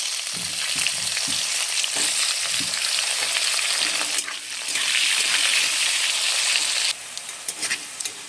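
Cut potatoes fry in hot oil with nigella seeds and slit green chillies, a steady loud sizzle with occasional stirring scrapes, dipping briefly near the middle and easing slightly toward the end.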